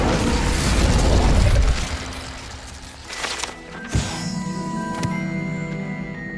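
An Incendio fire spell is cast in Hogwarts Legacy, with a rushing fiery whoosh that fades into a sharp magical burst and ringing, shimmering tones.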